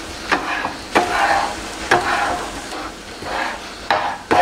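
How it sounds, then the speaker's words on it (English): Ham fries in a pan, a soft sizzle under repeated sharp clacks of a utensil scraping and stirring at roughly one-second intervals, close by. "Fry a little bit of ham as well."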